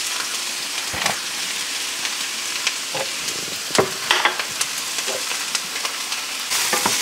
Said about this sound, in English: Just stirring it just like that, making it not stick.